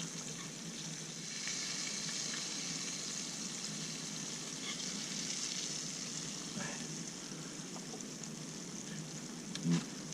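Steady broadband sizzle of catfish frying in hot oil, continuous and close, with a few faint clicks and a brief louder pop near the end.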